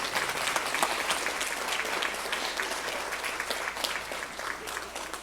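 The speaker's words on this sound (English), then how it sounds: "big round of applause" Steady applause from an audience at a veterans and military spouses honoring service, continuous dense clapping heard at moderate distance.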